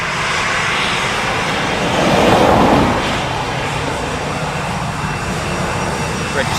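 An Aer Lingus Airbus A320-200 departs Dublin Airport for Santiago, its engines producing a loud, continuous roar that swells briefly to a peak before settling into a steady drone.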